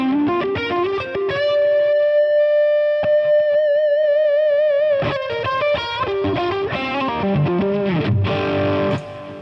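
Electric guitar through a high-gain overdriven amp model, with distorted sustained lead notes, wide vibrato bends and quick runs, loud and close with a touch of chorus-like shimmer, and no talking.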